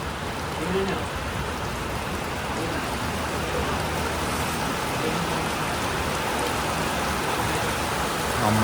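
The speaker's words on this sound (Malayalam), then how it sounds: "മഴ സ്ട്രോങ് ആയല്ലോ." Heavy rain pours down steadily, a dense, loud, even roar of falling water that holds without a break from start to finish.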